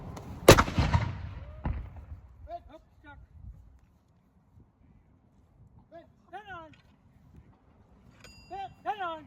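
A Civil War cannon fires once with a loud, close blast that rolls off into a rumbling echo, followed by a smaller thump and then shouted drill commands from the gun crew.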